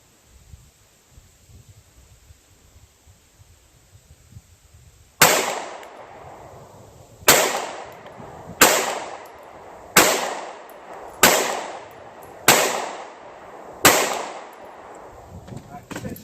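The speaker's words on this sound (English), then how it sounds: "All right, 6 shots." A Glock 43 pistol fired at a 50-yard target outdoors: seven sharp, loud reports come one at a time a second or two apart, each ringing briefly, after a quiet lead-in.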